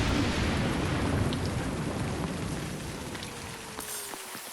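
Heavy rain pours steadily over a building site in bad weather, a dense hissing wash that eases slightly toward the end, with a faint low rumble beneath.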